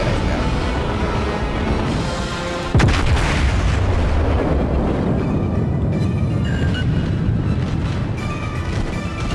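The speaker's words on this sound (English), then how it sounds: "I'm gonna shoot these guys now." Naval ship guns firing in the World of Warships video game, a sudden heavy boom near the start that rolls into a dense, loud rumble of battle noise lasting several seconds.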